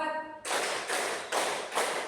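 A classroom group claps in unison during an ice-breaking clap game, producing four sharp, evenly spaced bursts of clapping. A brief voice is heard just before the first clap.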